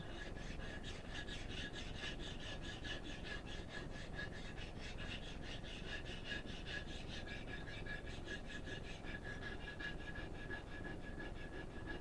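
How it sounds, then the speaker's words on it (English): A kitchen knife's bevel is honed on a coarse 325 grit sharpening stone, a steady close rasping scrape that runs in a continuous back-and-forth rhythm for the whole stretch, with no voices. "refining that bevel with a coarse stone, 325"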